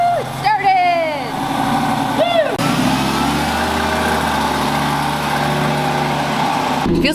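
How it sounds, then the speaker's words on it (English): A 2006 Lamborghini Gallardo cold starts after sitting dusty, with the starter whirring briefly twice before the engine catches and settles into a loud, steady idle, while people whoop and cheer in the clip. "here's a really dusty cold start on our 2006 Lamborghini Gallardo"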